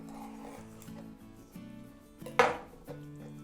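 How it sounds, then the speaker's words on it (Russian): A sharp knife slices through raw chicken breast on a board: soft scraping strokes with one louder cutting knock near the middle, over a faint tonal background. "режется очень легко с помощью острого ножа"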